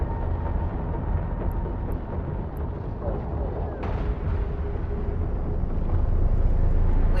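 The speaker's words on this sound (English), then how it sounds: "Activate the afterburner module highlighted on your display" A spaceship's afterburner module kicks in within EVE Online: a steady, loud engine roar with a brief whooshing surge partway through that swells slightly louder toward the end.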